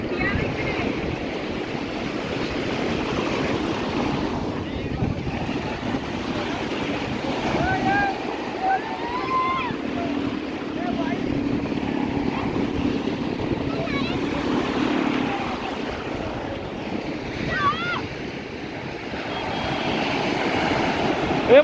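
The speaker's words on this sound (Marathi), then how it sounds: "मोठी लाट आली" Surf rolling in and breaking on a beach at Arnala, a steady broad wash of waves with wind noise close to the microphone, while people shout and talk over it.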